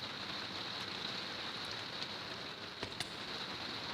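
Heavy rain pouring steadily, a dense, even hiss of drops with a couple of brief sharper taps near the end, fairly soft and with no voices.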